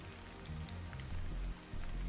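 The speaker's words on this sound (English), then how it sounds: "This must be Earth's rain." Steady rain patters across the scene in the video game Stellar Blade, a broad, continuous wash with low rumbling swells underneath, heard alone with no voices.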